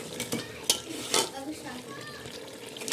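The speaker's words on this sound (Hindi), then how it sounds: "और इसे भी अच्छी तरह से हम मिक्स कर लेंगे ये सारी चीज़ों को।" A spoon knocks and scrapes in a pot as masala is stirred into mutton for Afghani pulao, soft irregular clinks and rustling with a faint sizzle and occasional talk.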